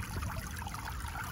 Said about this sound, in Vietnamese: vì nghe tiếng suối chảy không?